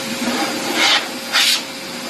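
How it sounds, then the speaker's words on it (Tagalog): Pet grooming blower drying a Wooly Husky, a steady loud broadband whoosh with two brief surges as the airflow swells, no talking. "Parang di maingay dito sa blower."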